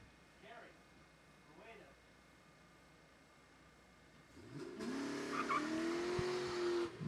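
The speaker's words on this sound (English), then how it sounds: "Burnout, such as it is for the drop-top Mustang here." A 2000 Ford Mustang convertible does a burnout at the Saskatchewan International Raceway drag strip. A voice talks over a quiet start, then a loud tire squeal and engine roar burst in and hold to the end.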